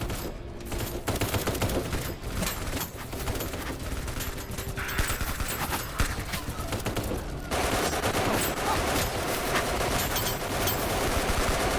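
Dense, continuous gunfire in the video game Kinki Spiritual Affairs Bureau, a steady loud barrage of rapid shots with no pauses.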